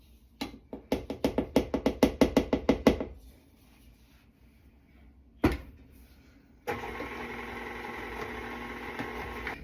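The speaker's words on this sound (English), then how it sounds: "Back over here at our stand mixer, I'm going to add in my flour slowly." A stand mixer beats sweet potato muffin batter as flour goes in. Rapid rhythmic knocking comes first, then a single thump, and finally the motor settles into a steady, moderately loud whir with no talking.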